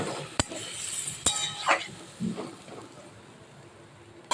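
A utensil stirring green papaya and water in a pot for a papaya and fish-head poppy-seed dish, with a few sharp metallic clinks spaced apart over a quiet background.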